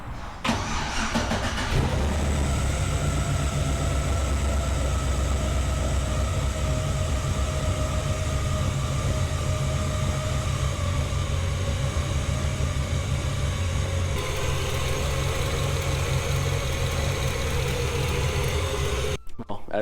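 An LS V8 swapped into a Nissan 300ZX cranks and catches inside a garage, then settles into a loud, steady, rumbling idle that holds for the rest of the clip before cutting off abruptly.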